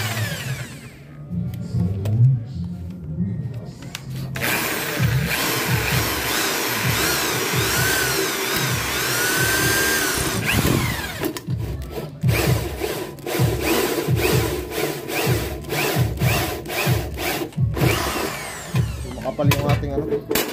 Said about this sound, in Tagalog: gagamit na lang tayo ng barena